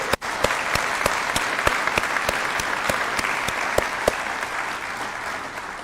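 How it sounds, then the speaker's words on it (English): A crowd at a school hall of fame ceremony claps steadily with sharp, distinct hand claps throughout, sustained applause at an even level. "Can we give a round of applause to them, thanking them one more time?"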